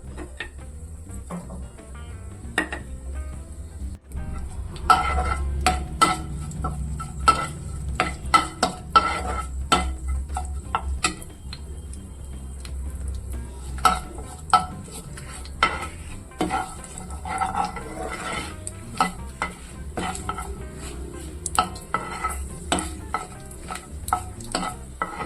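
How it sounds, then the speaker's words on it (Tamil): Mustard seeds crackling and popping in hot oil in a kadai, with many sharp little pops scattered over a soft sizzle and occasional spoon scrapes against the pan, close and continuous, with no voices. "இப்போ அதே கடாயில் வந்து எண்ணெய் ஊற்றி கடுகு போட்டுக்கலாம்"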